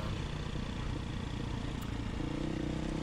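A Beta 500 RRS motorcycle rolls along a forest road, its engine a faint, steady drone blended with wind rush and light rattle and no voices.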